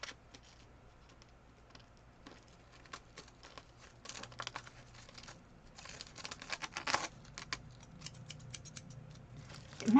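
Scissors snip through glitter-covered craft paper, with a piece of glitter caught in the blades; quiet, irregular crisp cuts and rustles come in bursts, busier in the middle, against a low steady background hum.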